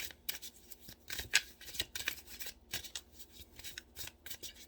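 A tarot card is drawn from the deck: a close series of short, papery swishes and rubs coming in quick irregular bursts, with no voices.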